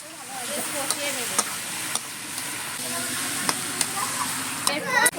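Fried pointed gourd and potatoes are stir-fried together in a pan for a prawn and parwal curry, with a continuous hissing sizzle and a few sharp scraping clicks from stirring up close.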